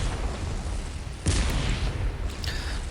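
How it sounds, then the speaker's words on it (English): Tank main cannon firing in the video game Planetside, a broadband blast near 1.3 seconds over steady low rumble, with a second fainter shot near 2.4 seconds. "We've got our main gun, big old tank cannon."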